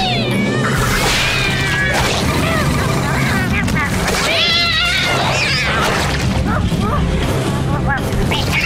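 A cartoon cat meowing and yowling loudly in a busy animated TMNT scene, with rising and wavering cries heard over dense background effects and other voices.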